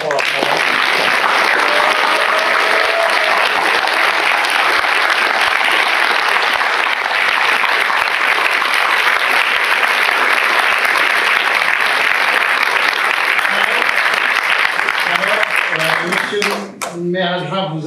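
An audience at the closing session of a 2021 botanical gathering applauds the organizing team in a loud, dense, unbroken ovation that lasts the whole time, with a voice faintly surfacing near the end.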